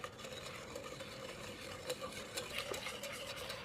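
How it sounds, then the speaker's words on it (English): Whisk stirring a lemon curd mixture with lemon juice in a pot, a steady soft scraping and swishing close by with no talk. "So stir this."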